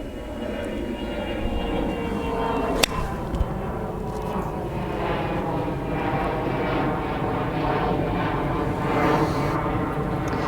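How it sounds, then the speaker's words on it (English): A steady, broad engine roar fills the whole stretch, an aircraft passing at moderate distance, with a single sharp click early on. "Look at these planes, it's just amazing."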